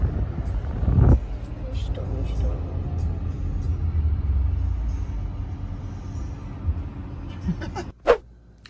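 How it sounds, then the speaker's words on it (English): Steady low rumble of a car interior on the move, with faint voices and small clicks under the engine noise, a brief louder thump near the start and a sharp short bang near the end. "This is your first car ride."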